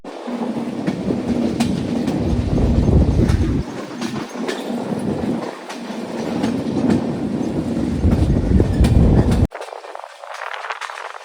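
A superfast express train on the Visakhapatnam to Mahabubnagar route rolls along the rails, a loud continuous rumble with rhythmic wheel clatter that fluctuates and then drops abruptly near the end.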